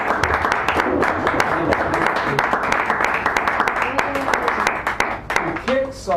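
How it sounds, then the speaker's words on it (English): A cafe audience at a San Francisco poetry reading applauds poet Nancy with dense, continuous clapping under loud chatter and voices, and the clapping thins out toward the end. "So give Nancy a round of applause"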